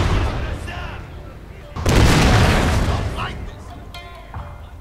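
Cannon fire in the video game Shogun 2 Total War: one loud booming blast that rolls out and fades over a couple of seconds, amid quieter battle noise.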